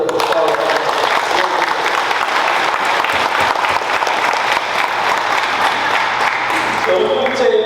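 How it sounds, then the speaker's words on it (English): An audience claps loudly and steadily after a prayer at a talk by a coach, dense sustained applause filling the whole stretch with a few voices mixed in. "Y'all clap it up for all the prayer"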